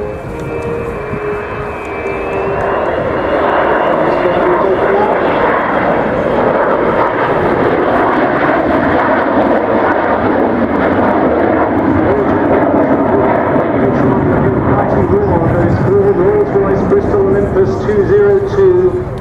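An Avro Vulcan XH558 jet bomber with turbojet engines flies at the Waddington air display, its engines producing a loud, steady roar with a shifting howl throughout, while a commentator speaks over it.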